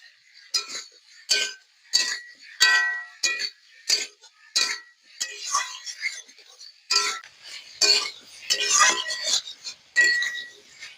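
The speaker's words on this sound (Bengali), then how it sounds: "এবার বন্ধুরা বেটে রাখা জিরে, মরিচ আর কাঁচা লঙ্কা দিয়ে একটু কষে নেব।" Ground cumin, chili and green chilies sautéing in a pan, a spatula striking and scraping the metal in a steady run of sharp clinks, close and fairly loud.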